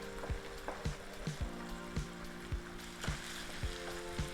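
Tomato paste cooking for a Bolognese sauce, a soft sizzle under evenly spaced spoon knocks and scrapes against the pan, quiet and close.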